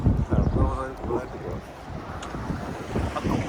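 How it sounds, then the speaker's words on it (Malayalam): Strong wind from a UAE sandstorm roars and buffets the microphone as a steady, rumbling rush close by, with a faint voice partly buried beneath it. "ഭയങ്കര കാറ്റ്"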